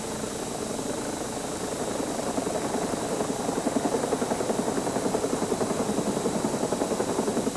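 A Lifestar medical helicopter lands in a hospital parking lot, its steady rotor thump growing louder and closer over a constant engine whine, with no voices.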